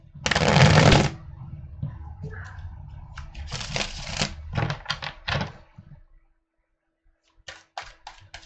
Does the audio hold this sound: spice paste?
no